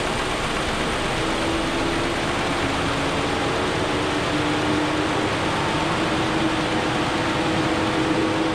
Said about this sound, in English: Fan is going crazy